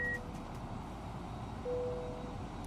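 A faint, thin electronic tone beeps briefly at the start and again for about a second later, sitting under a steady low hum inside the cockpit of an FSLabs A321neo in Microsoft Flight Simulator.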